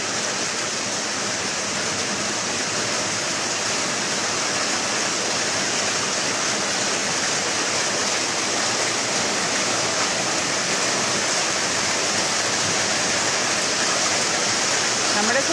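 Torrential rain with strong gusting wind pours as a thick, uniform hiss and rush, close and loud, holding steady to the end with only faint hints of a voice beneath.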